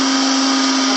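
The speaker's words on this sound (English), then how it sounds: "I put it in a blender" A blender runs continuously on termites, a loud, steady, high-pitched motor whine with a strong tonal hum and no pauses or voices.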